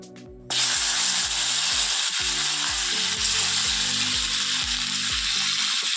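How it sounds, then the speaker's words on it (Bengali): Fish fries in hot oil in a home kitchen pan, a dense, steady sizzle that starts abruptly and continues close and loud, with rhythmic low clunks of a utensil stirring beneath it. "মাছগুলো ভাজা হয়ে গেছে"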